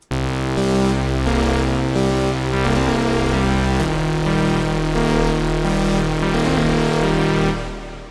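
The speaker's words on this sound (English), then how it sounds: "we're going to be making a distorted oscillator sync type lead that's going to sound like this." A distorted oscillator sync synthesizer lead with a phasey quality plays a loud, sustained, buzzy melodic line. Its dense harmonics shift with a few note changes over about eight seconds, and it fades at the end.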